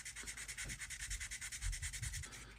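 Sandpaper rubs along a seam on a 1/1000 scale Polar Lights plastic starship model, making quiet, close, rhythmic back-and-forth strokes with no talking.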